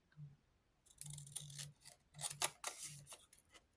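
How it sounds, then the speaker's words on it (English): Scissors snip through paper for a Christmas craft project, a few close, crisp cuts in short bursts with brief pauses between them, no talking. "I think I would be better off cutting it."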